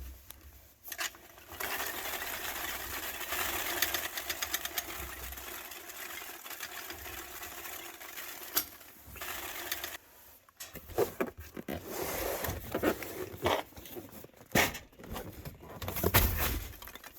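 Shipping peanuts poured into a cardboard box for packing a valve body, a soft continuous rustling patter with scattered light clicks and taps, fairly quiet and without talk.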